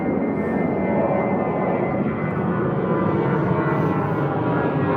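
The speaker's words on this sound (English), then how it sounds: "British Airways A321 again," A British Airways Airbus A321 departs London Heathrow bound for Hamburg, its jet engines making a loud, steady, broadband roar that holds for the whole stretch with no talking.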